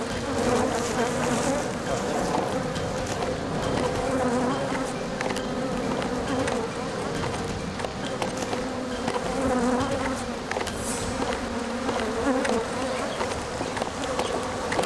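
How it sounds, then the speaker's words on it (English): A dense, agitated swarm of bees buzzes loudly and continuously up close, with a steady droning hum that never lets up. "As JD unhooks the hive from the tree, the bees become agitated"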